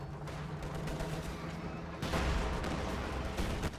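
Machine gun and rifle fire rattle through a Company of Heroes 2 battle, a steady crackling barrage with distant booms that grows noticeably louder and denser partway through.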